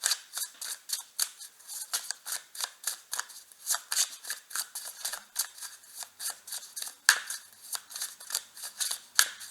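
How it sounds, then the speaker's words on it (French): A deck of tarot cards is shuffled by hand in quick, crisp riffling bursts that repeat steadily at close range for several seconds, alone and fairly quiet. "je vais touiller un petit peu les cartes"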